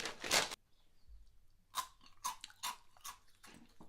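Crunchy cheese-flavoured Cheetos snacks are bitten and chewed close up: a loud first crunch, a pause, then a quick series of sharp crunches, with almost no talking.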